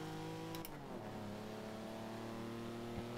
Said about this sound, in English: This is a drag tune car, I believe, also.